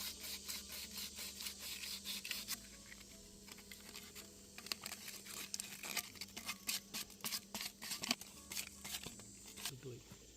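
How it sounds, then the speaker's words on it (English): Sandpaper is rubbed over a PVC pipe in quick, uneven scratchy strokes, close and fairly quiet, with bursts of rasping that speed up toward the end. "We're going to use the sandpaper and smooth it over."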